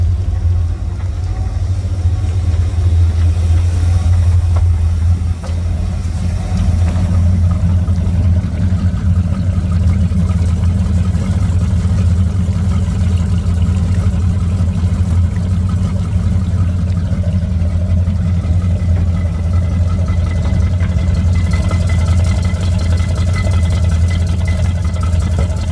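The starboard engine of a boat idles during winterizing, a deep, steady, close rumble that holds unchanged throughout.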